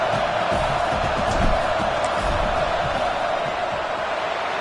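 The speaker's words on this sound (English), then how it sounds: "This crowd trying to do its part to get inside the kicker's head." A football stadium crowd roars steadily during a fourth-down field goal try, a dense, continuous wash of cheering and whooping at a fairly even level throughout.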